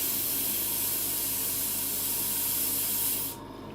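Compressed air hisses loudly and steadily from an airbrush compressor's water filter as it is drained, then cuts off sharply near the end, leaving a quieter background.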